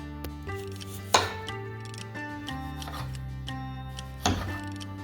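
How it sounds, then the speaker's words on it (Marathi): Raw mango being chopped for pickle, with two sharp knife strikes against a board among quieter taps over a faint, steady humming background. "आपली ना कैरी ही छान अशी चिरून झालेली आहे"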